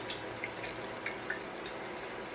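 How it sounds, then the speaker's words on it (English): Steady soft hiss of chicken frying in hot oil in a Copper Chef pan, with faint crackles and pops scattered throughout, continuous and fairly quiet. "You might be able to hear the little sizzling"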